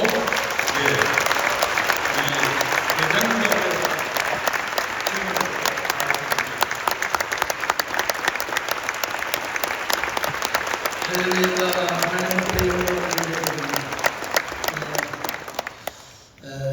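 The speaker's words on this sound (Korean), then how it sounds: "힘찬 박수로" A church congregation at a worship service breaks into vigorous applause, a long, steady wash of clapping; a voice speaks over it partway through, and it dies away near the end.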